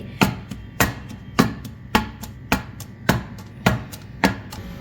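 A cake tin of mocha milk sponge batter is tapped down onto a towel-covered surface about nine times in a steady, even rhythm, each thud short and dull, with no talking.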